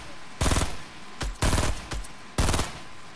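Loud bursts of automatic video-game gunfire, four or five separate volleys of varying length, close and harsh, with brief quieter gaps between them and no talk over them.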